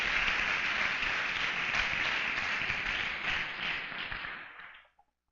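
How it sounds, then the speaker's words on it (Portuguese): Church congregation applauding at a sermon, a dense steady wash of many hands clapping for about five seconds before stopping abruptly, with no talk over it. "Quem crê nisso, dê um aplauso a Ele, bem forte mesmo."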